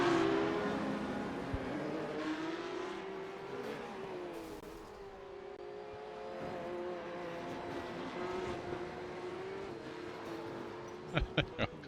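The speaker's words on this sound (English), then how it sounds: "Burnouts for Ryan Bunt." A Porsche Cup race car in the iRacing sim at Miami holds a sustained, wavering engine roar with rising and falling revs during a burnout, ending with a few sharp bursts.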